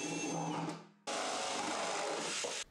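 A power drill bores holes through a rubber gasket for a dust extraction cyclone mounted on a barrel, two close, loud, steady whirring runs split by a brief pause.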